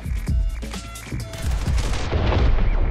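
Rapid gunfire in the video game The Hong Kong Massacre, loud dense bursts of shots and booms layered together, continuing without pause through the whole stretch.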